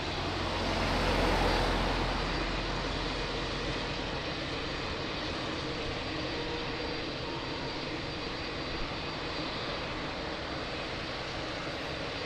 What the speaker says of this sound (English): Beautiful Etihad lining up,